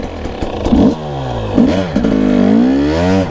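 A motorcycle climbs a rough, bumpy slope, its engine revving loud and close in repeated rising and falling surges, with rattles and scrapes as it bounces over the terrain.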